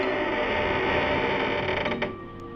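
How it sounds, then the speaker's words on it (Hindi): A door creaks open slowly in one long, steady groan with a faint rattle toward the end, close and prominent before it fades. "दरवाज़ा खड़खड़ाता हुआ खुलने लगा"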